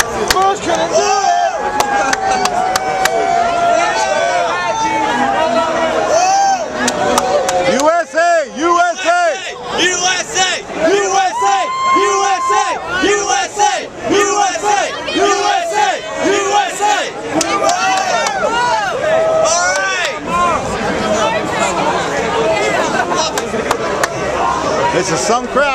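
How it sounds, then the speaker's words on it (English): A large, dense crowd celebrating outside the White House cheers and chants loudly and continuously, with close shouts and babble layered over a steady roar of many voices. "This is some crowd out here in front of the White House."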